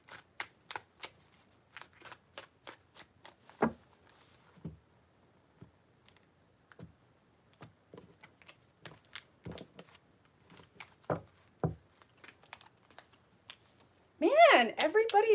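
Cards shuffled by hand in a tarot reading make a run of quick, crisp riffling clicks, quiet and close, followed by a final burst of louder shuffling.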